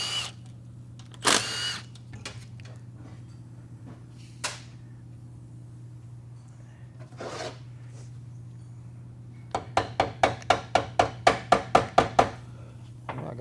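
Bolts being worked out of a transmission tail housing case support, with scattered metallic clicks and scrapes followed by a fast run of about a dozen rhythmic ratchet clicks near the end.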